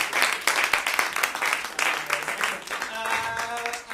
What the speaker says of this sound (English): Let's give a round of applause to all our contestants.